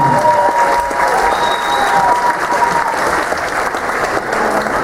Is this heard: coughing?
no